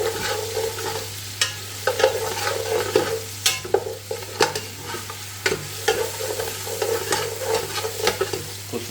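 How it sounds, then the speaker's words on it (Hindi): Whole spices including mace being dry-roasted in a pan, with repeated scraping and clattering strokes of a spatula over a faint sizzle, in an irregular stirring rhythm. "ये मसाले भूनूंगा।"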